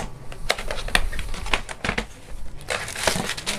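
Packaging of a wireless mini keyboard without a numeric pad being opened by hand, giving close, steady crinkling and rustling with sharp clicks and snaps throughout, and no talking.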